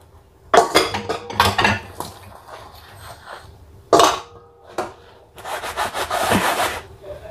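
Fried rice being cooked, with a metal utensil scraping and clinking against the pan in a few sharp bursts, then a longer stretch of continuous close scraping and stirring.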